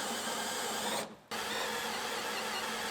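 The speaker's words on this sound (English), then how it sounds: "So we'll just drill all these out of here." A power drill fitted with a flat-tip bit drills out spot welds through layered sheet metal on a Ram ProMaster City van body, a steady close whine that cuts off briefly near the middle and then resumes.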